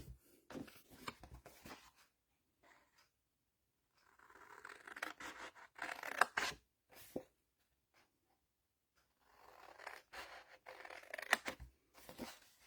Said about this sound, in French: on va venir couper sur les 3 lignes de pli.